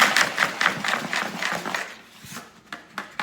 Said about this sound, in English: I take my whisk, put it in there.